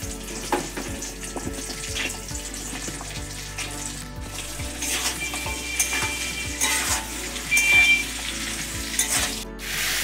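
Cut eggplant and onion stalks frying in oil left from frying fish, a loud steady sizzle and crackle close up, with repeated scraping strokes of a spatula stirring the pan.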